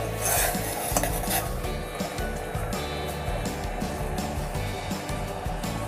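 A spoon stirs a simmering Thai sweet fish sauce mixture in a pot, giving a steady run of scraping and light metallic clatter against the pan, fairly close and continuous throughout.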